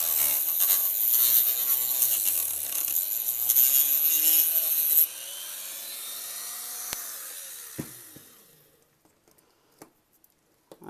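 A power tool cuts through plastic, melting it more than cutting, a loud close whine with a wavering pitch that drops partway, then winds down into quiet with a few sharp clicks and taps.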